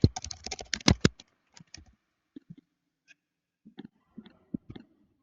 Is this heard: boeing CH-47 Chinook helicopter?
no